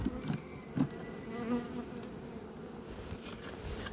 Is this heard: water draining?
no